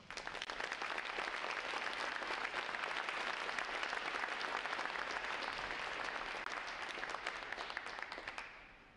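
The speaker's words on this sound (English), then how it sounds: "Please join me in a special round of applause for the staff of Recruit Training Command." Crowd at a U.S. Navy Recruit Training Command graduation applauding the staff: sustained, dense clapping from a large audience that swells in, holds steady, then stops abruptly near the end.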